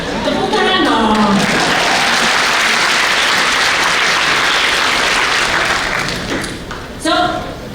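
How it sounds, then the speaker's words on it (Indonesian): Sustained audience applause at a youth talk on sustainable development fills most of the stretch, dense and loud, fading near the end as a voice returns briefly. "Tepuk tangan dong."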